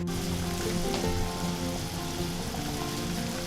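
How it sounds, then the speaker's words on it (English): Water boiling hard in a pot for pasta gives a steady, dense bubbling and sizzling roar, close and continuous, with a faint tonal hum underneath and no talking. "So our water is boiling pretty aggressively now"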